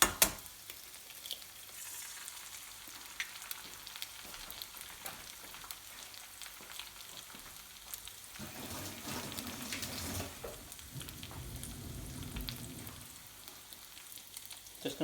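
Egg fries and gets stirred in a pan for pilau rice, a soft steady sizzle with scraping stirs, swelling louder and hissier midway before settling back, and no voices.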